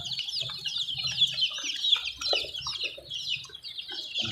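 Caged desi Kaveri chickens at a poultry shop cluck and chirp continuously, a busy overlapping chatter of many birds close by, with faint background rustling and no speech.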